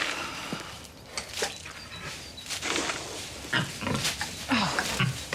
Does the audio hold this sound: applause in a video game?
no